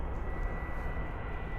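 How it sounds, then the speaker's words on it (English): An airplane passes overhead as a steady, broad engine rumble and hiss, moderately loud and continuous, with no talk. "Plane."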